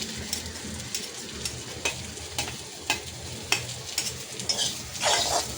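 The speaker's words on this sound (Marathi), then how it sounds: "आता आपण कांदासुद्धा भाजून घेऊया ह्याच कढईमध्ये।" Onion sizzles in a hot kadhai, roasting toward golden for Kolhapuri misal, while a spoon scrapes and stirs in quick, repeated strokes, close up, with no talking.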